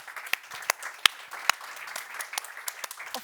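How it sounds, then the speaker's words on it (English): Scattered, uneven clapping from a small audience closing a cybersecurity conference talk, with sharp individual claps standing out over a thin, moderately distant patter. "close the talk with a big round of applause"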